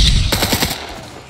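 A short, loud burst of rapid automatic gunfire in a PvP video game cracks out close up, several shots in quick succession fading after about a second.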